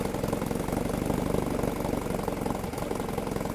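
A 1957 Johnson AD-11 7.5 horsepower outboard motor, warmed up and running steadily, gives a loud, close, even putter with a rapid regular firing rhythm and no voices.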